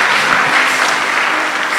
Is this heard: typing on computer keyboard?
no